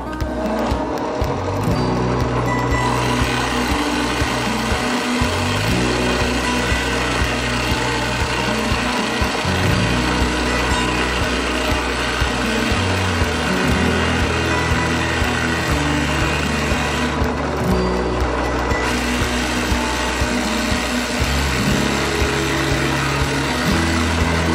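A bench drill boring into soft wood with a 35 mm bit at 2,380 rpm, a steady motor whine with a low grinding rumble that shifts in pitch as the bit cuts, with no talking.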